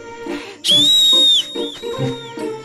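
A loud, clear whistle holds a long sustained note, then slides into a softer, wavering tone, with background chatter and murmuring around it.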